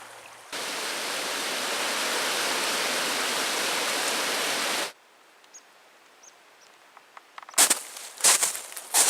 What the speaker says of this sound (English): the creeks are flowing strong.